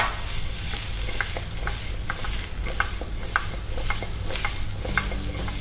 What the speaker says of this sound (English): Butter with that garlic, so good.